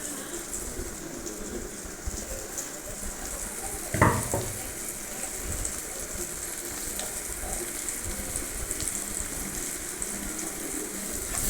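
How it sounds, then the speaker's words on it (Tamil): Chopped ridge gourd fries in a pan with a continuous soft sizzle and watery hiss, holding an even level apart from one brief louder clatter near the middle, with no one speaking. "அது நல்லா ஃப்ரை ஆகிற அளவுக்கு ஃப்ரை பண்ணிக்கோங்க"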